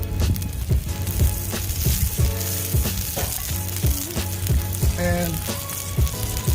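Eggs fry in oil in a pan with a loud, continuous sizzle and crackle up close, while background music with a steady beat plays alongside and a voice says a single word.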